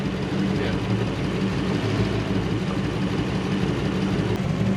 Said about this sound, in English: The engine isn't getting enough fuel into it.